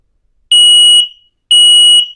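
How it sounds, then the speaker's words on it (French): Two loud, piercing electronic beeps from an X-Sense smoke and carbon monoxide alarm during a button test, evenly spaced about a second apart, close by. "on a vraiment un détecteur de fumée qui est très très bien fait"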